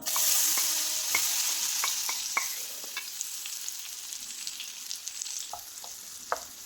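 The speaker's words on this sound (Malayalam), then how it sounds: "ഇതൊന്ന് കളർ ചേഞ്ച് ആവുന്നത് വരെ വഴറ്റിയെടുക്കാം." Chopped ripe nendran plantain sautéing in a hot pan, with a steady sizzle and repeated stirring scrapes and clicks from a spoon, close and clear with no talking.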